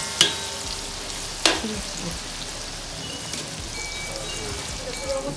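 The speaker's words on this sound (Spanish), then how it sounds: "Aquí ya le echamos bel pepper, ajo y cebolla. Que se sofría todo." Chopped bell pepper, garlic and onion sizzle in a hot pan with a steady, close hiss, punctuated by a couple of sharp utensil clinks near the start and faint stirring scrapes throughout.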